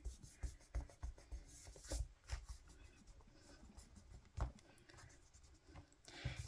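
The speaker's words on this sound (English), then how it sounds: "I will erase down here." An eraser rubbed quickly back and forth on journal paper, producing a steady run of soft, close scrubbing strokes with no talking.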